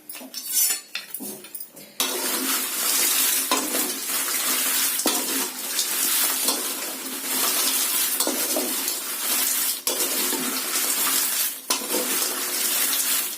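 Red chillies roast in oil for chilli powder, a loud continuous sizzle broken by scraping and clattering as two sticks stir from both sides.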